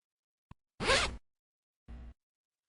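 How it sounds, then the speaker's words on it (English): A zipper is pulled in two strokes: a loud, rasping zip lasting about half a second, then a shorter, softer zip after a pause, preceded by a tiny click. "The answer is zipper."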